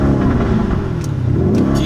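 A car engine running close by, a loud, steady throaty rumble with slight surges as it revs.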